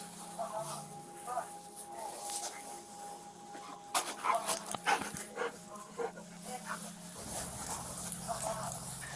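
A cadaver detection dog pants and whimpers close by in short, irregular bursts, while people talk over it.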